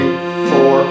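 Accordion playing a short tune with both hands, a left-hand bass accompaniment under the melody, sustained reedy chords heard close and loud in a brief burst with no talk.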